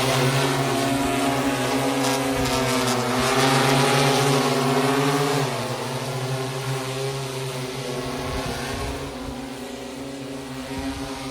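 An agricultural spraying drone with a full spray tank flies over a potato field, its rotors giving a loud, steady droning hum with layered tones that shift in pitch and fade slightly as it moves away.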